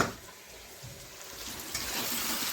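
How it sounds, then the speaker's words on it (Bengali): Onions frying in a pan in a home kitchen make a steady, close sizzle that builds slightly louder toward the end, with occasional faint clinks and no voices. "পেঁয়াজটাও ভাজতে দিয়ে দিয়েছি"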